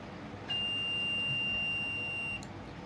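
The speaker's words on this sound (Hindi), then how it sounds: "जब आपस में ये मिलाओगे तो ये बोलेगा। तो ये है बजर मोड।" A multimeter set to buzzer continuity mode gives one steady high beep of nearly two seconds as its probes touch, clear above a low room hiss, with no talking, while a Samsung Pleomax keyboard is being checked for repair.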